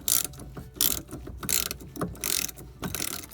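A wrench ratcheting as it breaks loose a fuel filter line fitting on a 1996–2001 Audi A4 Quattro, bursts of rapid clicking pawl strokes in short repeated pulls, close and clear.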